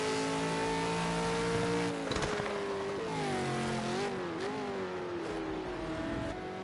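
A supercar engine drones steadily at high revs on a victory lap at Bathurst in an ARC Supercars finale, its pitch sagging and climbing through gear changes and corners, loud and close throughout.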